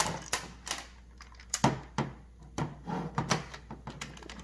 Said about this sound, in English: you can take all the screws out